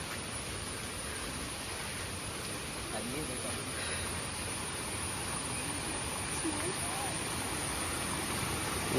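Water rushes steadily over a small check dam during the monsoon near the Yana caves, a loud, constant broadband roar close by, with faint voices partly under it.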